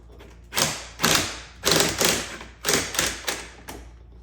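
An 8mm socket wrench turning on a hose clamp under the hood of a Dodge Challenger Scat Pack, a series of about eight close, evenly spaced ratcheting clicks and thuds with quiet gaps between.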